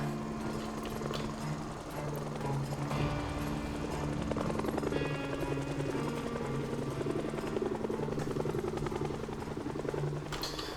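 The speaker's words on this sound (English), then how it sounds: "You know what's lame too is you can't even see the helicopter. It's just a sound effect" A helicopter sound effect in the zombie survival video game Project Zomboid gives a steady, chopping rotor drone with a constant mechanical hum throughout, moderately loud and unbroken.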